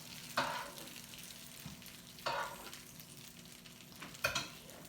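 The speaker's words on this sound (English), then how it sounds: "Garlic butter breadsticks. Okay? Those will sizzle down there for you." Garlic butter breadsticks sizzle in a hot pan, a steady low frying hiss broken by three sharper bursts of stirring or shifting about two seconds apart, close and moderately loud with no talking.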